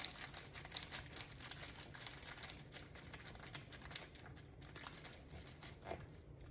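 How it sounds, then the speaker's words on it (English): A dull knife saws through the top of a brioche sourdough loaf, giving a steady dry crackling and crumbly rasp that runs continuously at close range, fairly quiet and with no talking. "I'm basically just gonna shave the top off."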